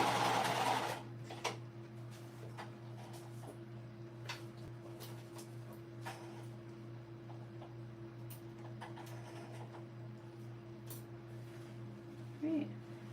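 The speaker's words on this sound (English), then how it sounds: "my sewing machine has all like the metal gears inside, so it goes through pretty thick stuff" A metal-geared home sewing machine stitches through thick fabric backed with fusible fleece, a steady mechanical hum with a few faint clicks and knocks, with no talking.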